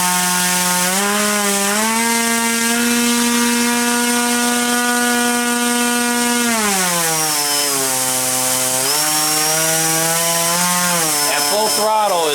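An RCTimer HP4215 460 kV brushless motor driven by an RCTimer HVSK 40A ESC at about three-quarter throttle gives a loud, steady whine that wavers slightly in pitch as the speed shifts.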